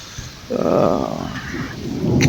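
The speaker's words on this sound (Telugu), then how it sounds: "ఈ రోజు కూడా మస్తు అంటే మస్తు వర్షం అండ్ గాలి రెండు కలుపుకొని వస్తుంది" Heavy rain driven by wind rumbles and washes against a building with open window gaps in a steady, loud roar, with a gust swelling near the end.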